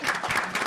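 An audience at a chamber of commerce mayors reception applauds to welcome an executive vice president to the stage, producing a brief burst of steady, moderately loud clapping from a room full of people.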